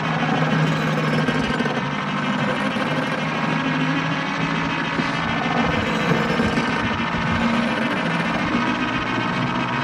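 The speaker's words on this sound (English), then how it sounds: "You can see how fast the wheel's turning." A water wheel spins an alternator to charge a battery, giving a steady, dense mechanical whir and hum. It holds an even level throughout with no voices.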